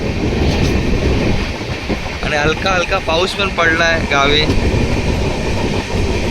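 A passenger train runs along the Konkan route between Mumbai and Karwar, its steady rumble and wheel clatter carrying throughout under a voice talking close by.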